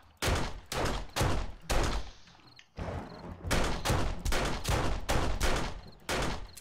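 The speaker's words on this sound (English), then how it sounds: "I'm just shooting them." Gunfire from shooting enemies in a video game comes as loud, evenly spaced bursts, about a dozen sharp shots, with a short quieter stretch near the middle.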